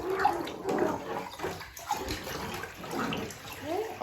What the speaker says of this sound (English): So just stir it all up until it dissolves.